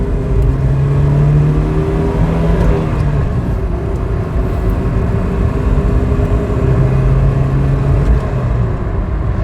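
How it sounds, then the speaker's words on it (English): A Volvo 360 GLT engine at full throttle, accelerating hard with a steady, droning rise in pitch under load; close, loud in-cabin engine note with road and wind noise, no talking. "That is foot flat to the floor."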